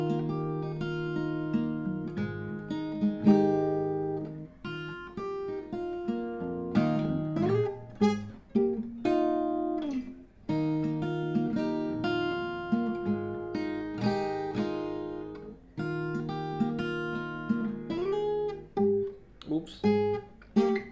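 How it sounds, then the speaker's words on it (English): Fingerpicked electric or acoustic guitar playing the main riff of a song, with plucked notes and chord shapes in a steady rhythm, close and clear, with no talking. "If you want to follow the tab, you have to go into a bit of finger picking"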